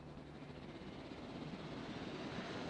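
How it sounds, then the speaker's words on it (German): Helicopter flying in the dinosaur park game Jurassic World Evolution, a steady, close rotor and engine roar that stays even and loud throughout with no talk. "Wir fliegen jetzt mit dem Helikopter dahin."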